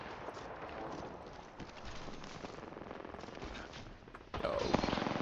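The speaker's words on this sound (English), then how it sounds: "What is this dude shooting?" Rapid automatic gunfire in the Apex Legends battle royale game, dense and continuous bursts of shots filling the whole stretch, growing louder near the end.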